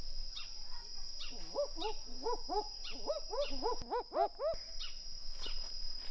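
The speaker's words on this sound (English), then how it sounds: "They were in fact barking owls." Barking owls call at night in the Bungle Bungles, a run of repeated two-note woofing hoots from two birds over a steady high insect drone.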